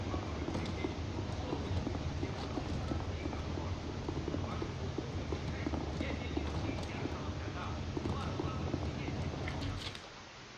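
Horse hooves clip-clop steadily in a video game, a continuous walking rhythm over dense background noise and music that ends abruptly near the close.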